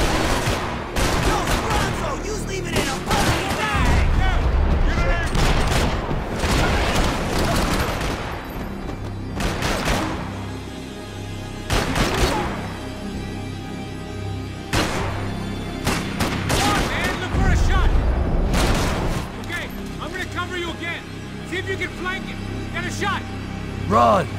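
Gunfire in the video game Max Payne 3: repeated bursts of loud rapid shots and heavy booms across an intense firefight, with voices shouting over the action.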